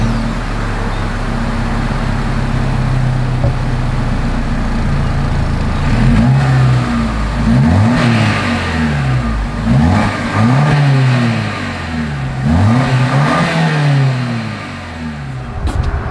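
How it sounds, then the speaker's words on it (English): A 2025 Lexus NX 350 SUV idles steadily, then its exhaust is revved repeatedly in several rising and falling surges, loud and close, with no talking. "As always, here is that exhaust clip."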